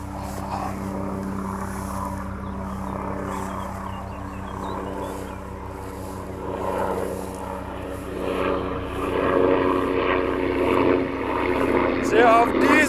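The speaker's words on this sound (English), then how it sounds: "There's a fucking helicopter again." A helicopter flies overhead, its low droning rotor hum persisting steadily beneath someone talking indoors and growing louder toward the end.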